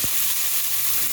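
Ginger frying in a pan with oil, with tomatoes and carrots added soon after, a close, steady, loud sizzle with a soft thump at the start and no voices.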